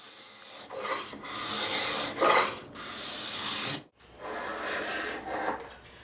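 A card scraper works across dense, tight-grained utopia hardwood in a series of raspy strokes, each several seconds long with a short break between them, close and fairly loud with no talking.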